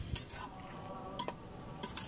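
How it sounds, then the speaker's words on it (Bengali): Bottle gourd greens being stirred as they sauté in a pan, a quiet sizzle with a few sharp clicks of the spoon against the pan at intervals. "এখন এই শাকগুলো ভালো করে নেড়ে চেড়ে নিতে হবে।"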